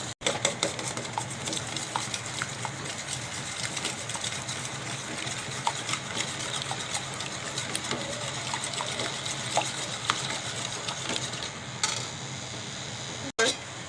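Egg being whisked into hot milk in a pot while cooking egg lachha semai, a steady close stirring and rattling churn with liquid sloshing that runs almost without a break before stopping briefly near the end.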